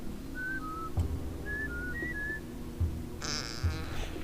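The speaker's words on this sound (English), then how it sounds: "I whistle by pressing R2 or RT and then using the D-pad" Abe whistles a command in the video game Oddworld: New 'n' Tasty, a few short, pure whistled notes rising and falling in two quick phrases, fairly quiet, with soft game thumps and a brief burst of noise near the end.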